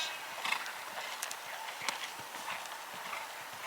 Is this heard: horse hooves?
yes